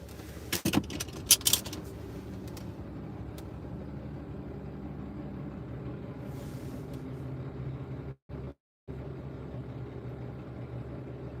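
A loud truck passes along San Marcos Boulevard in North County San Diego, making a steady, heavy engine rumble that fills the scene. A few brief metallic clinks come early on, with no talking.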